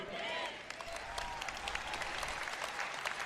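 Clapping comes from an audience during a church sermon, a quick irregular run of hand claps that starts near and fades lower, with a voice speaking over it.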